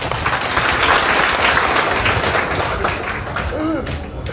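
Steady crowd applause fills a district party candidate-selection meeting in Joypurhat after a vote count is announced, dense clapping sustained throughout with a brief voice near the end.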